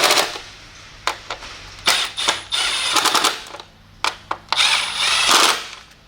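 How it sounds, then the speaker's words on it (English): A power tool whirs and rattles in repeated bursts while working on spark plugs of a 2013 Honda Accord, some short and some sustained, stopping and starting several times at close range. "I could use the power tool and speed up this moment"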